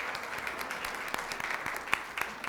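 A school district governing board meeting audience claps at a moderate distance, a soft scattered patter of hands with a few sharper individual claps standing out.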